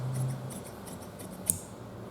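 Scissors snip fabric for a kurta collar in a series of soft, rhythmic, close cuts, about eight crisp strokes, with one sharper click near the end.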